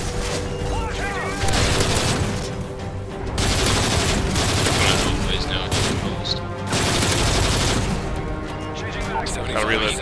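Heavy, sustained gunfire in Modern Warfare 3 Spec Ops, with dense bursts of shots and booms that keep going with brief dips, while players talk over the noise.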